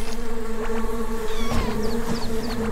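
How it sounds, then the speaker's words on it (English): A swarm of bees in the retro RPG Secrets of Grindea gives a loud, steady buzzing drone, with short game effect chirps and whooshes scattered over it. "Oh, those are a lot of bees right there."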